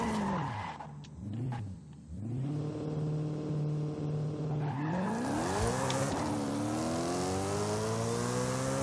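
An Alfa Romeo 155 on street tires in Forza Horizon 5 races down a track, its engine revving up through the gears with rising whines, brief lifts between shifts and faint tire squeal.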